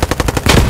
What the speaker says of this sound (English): I think they're shooting our parachuters right now.